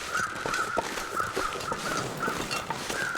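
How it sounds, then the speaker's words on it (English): Crows caw repeatedly in the survival game The Long Dark, short harsh calls recurring throughout over a steady windy ambient bed, fairly loud and spread across the scene. "Hearing lots of crows."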